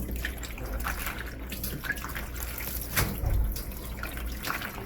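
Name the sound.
rinsing salt off cabbage in a bowl under running water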